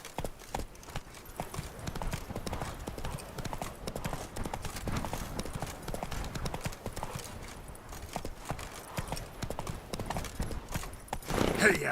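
Horse hooves clip-clopping at a steady gallop in the video game The Witcher 3, a continuous close rhythmic patter of hoofbeats with a brief whinny-like burst near the end and occasional voice in the mix.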